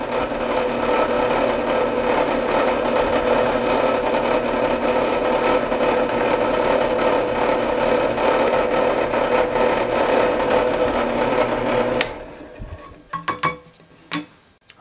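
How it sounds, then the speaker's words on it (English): A power drill bores holes in metal for a blade bait fishing lure, its motor whirring steadily at close range for a long stretch before stopping, followed by a few short clicks and taps. "Let's start drilling."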